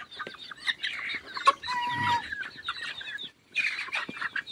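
Turkeys and chickens cluck and chatter close by while feeding on hammered corn, a mix of chirps and squawks with short pauses between bursts.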